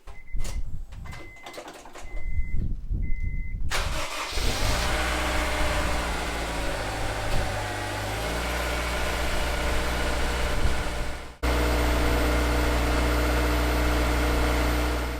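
A 2002 Honda S2000 engine runs steadily and close after a few faint tones, holding a smooth hum with slight revving before cutting off briefly and resuming.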